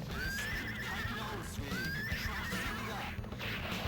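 A horse neighs twice in a rising, shrill whinny that then falls away, heard over a constant busy rumble of hooves and background noise, with no speech.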